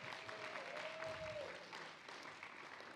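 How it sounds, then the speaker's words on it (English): Faint audience applause at a lupus spring dinner event in an Italian restaurant, a steady patter of clapping from a modest crowd with a brief tonal whistle or feedback note in the middle. "Give them a round of applause."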